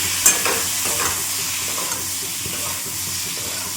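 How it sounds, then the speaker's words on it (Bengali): Vegetables seasoned with turmeric and salt for a chutney being stirred in a pan, a steady frying sizzle with soft scraping stirs, close and continuous without talk. "অল্প একটু হলুদ আর একটু লবণ দিয়েছি তো নাড়াচাড়া করে নিই"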